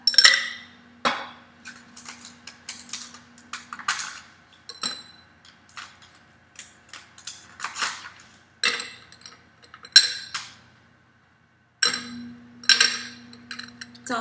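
Square ice cubes drop one by one into a tall glass, giving a string of sharp, bright clinks and taps with short gaps between them, close and fairly quiet.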